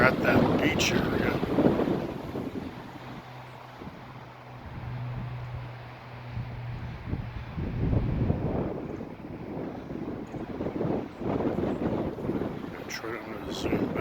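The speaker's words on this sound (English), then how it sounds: "the wind is really ripping up here" Gusty wind rips across Summer Lake in Oregon, loud rumbling bursts buffeting the microphone that rise and fall, with a quieter lull in the middle and faint speech beneath.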